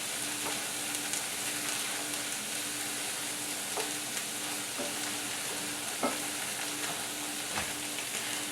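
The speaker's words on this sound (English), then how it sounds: "add a little bit more broth just to kind of give the pan a little more moisture." Canned beans and vegetable broth sizzle steadily in a pan, a continuous crackling fry with occasional soft stirring clicks and scrapes.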